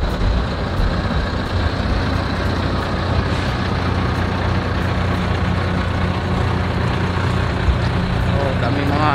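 Dense, steady road traffic with trucks and buses rolling past during morning rush hour in Saudi Arabia, a continuous loud roar with engine rumble, alongside a voice talking over it.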